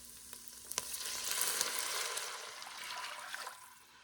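A pan sizzles as about 2.5 cups of beef broth are poured in to deglaze it, swelling into a loud hissing boil that settles, with a few sharp clinks at the start.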